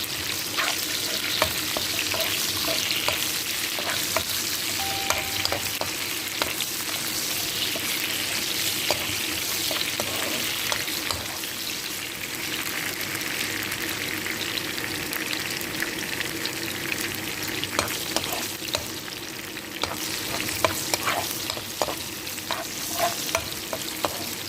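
Chopped ginger sizzles in hot oil in a pan, with a steady crackling fry and repeated scraping stirs of a utensil, close and continuous throughout with no talking.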